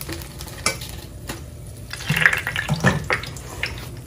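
Green chilli pakoras frying in a batch of hot oil, a steady bubbling sizzle with a few louder clatters and stirring knocks midway, close and with no talk.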